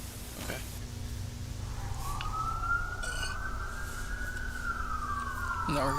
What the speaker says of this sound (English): Now we're hearing sirens.